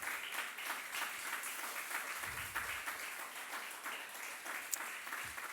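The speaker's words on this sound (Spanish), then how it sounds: "Dele una ofrenda de palmas al Señor" A church congregation clapping in praise during a service, a continuous, fairly faint wash of many hands heard from a distance, steady throughout with no voices audible.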